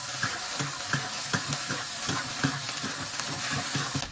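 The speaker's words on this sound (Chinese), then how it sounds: "锅里倒油，先炒豆子。" Beans and crushed garlic fry in oil in a wok, a steady sizzle with rhythmic scraping strokes of a spatula, moderately quiet and with no talking.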